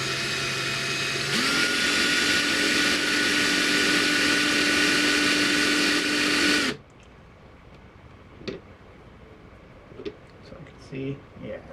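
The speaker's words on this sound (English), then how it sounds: "Sometimes it's actually even easier just to drill them like this." A power drill whirs loudly for several seconds through a plastic model kit part, its pitch rising as it bites in, then stops abruptly, leaving quiet clicks and faint handling noise.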